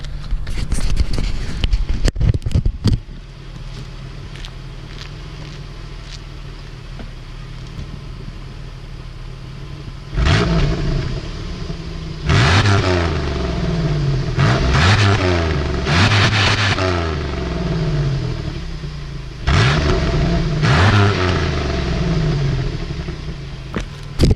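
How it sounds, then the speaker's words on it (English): Pontiac Grand Prix GTP with some rust underneath, its engine idling quietly and then blipped in several sharp, loud revs spaced across the stretch, each rising and then falling back to idle. "it's a decent sounding car for sure"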